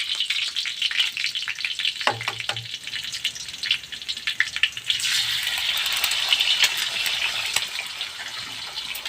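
Garlic frying in a pan before egg is added: a soft, steady sizzle with a brief clatter of stirring near the start, then the hiss grows brighter and more intense partway through.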